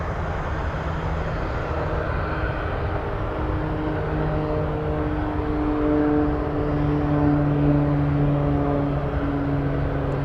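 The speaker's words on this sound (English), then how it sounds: "look at this seaplane. It's on the move." A Kodiak 100 seaplane moving at Anchorage, heard as a steady propeller-engine drone with a low tonal hum that holds throughout, fairly loud and continuous with no talk.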